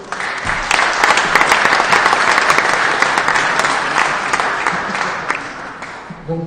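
Loud, dense audience applause at a sports draw ceremony, a steady roar of many hands clapping that holds for several seconds before easing slightly at the end.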